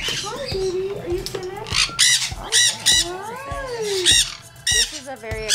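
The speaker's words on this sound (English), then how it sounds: "It's African gray." African grey parrot at a parrot shop, squawking and chattering in repeated harsh, bright calls up close, mixed with people talking nearby.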